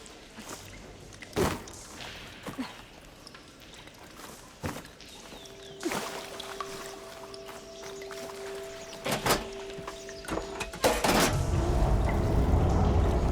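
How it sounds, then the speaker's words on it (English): Water switches through pipes in the video game Horizon Forbidden West, heard as a low sustained hum with scattered thuds and clunks, ending in a rising rush of flowing water. "Sounds like the water switched."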